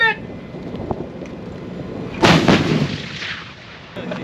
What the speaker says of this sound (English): I just fired my first round.